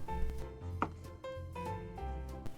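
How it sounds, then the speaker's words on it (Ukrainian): Knife chopping champignon mushrooms finely on a board, a string of sharp, close taps in an uneven rhythm over a low hum of kitchen background. "Тим часом наріжу гриби. В мене шампіньйони, нарізати їх також необхідно дрібненько."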